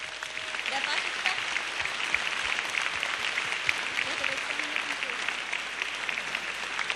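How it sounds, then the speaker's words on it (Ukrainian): Concert audience applauding a singer's arrival on stage, a continuous dense wash of clapping from a large crowd, steady and moderately distant, with some voices mixed in. "І зараз прошу такими ж теплими оплесками зустріньте на цій сцені мого хорошого друга"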